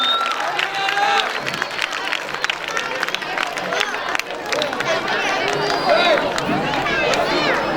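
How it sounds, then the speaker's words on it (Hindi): A large crowd at an educational institution event claps and cheers to welcome a guest to the stage, dense sustained applause mixed with chatter and shouts, loud and continuous throughout. "जोरदार तालियों से आप इस्तकबाल फरमाइएगा"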